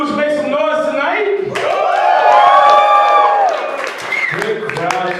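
A comedy club audience in Baton Rouge cheers, whoops and claps as a comedian is introduced, a loud swell of shouting that peaks mid-clip, with an announcer talking before and after it.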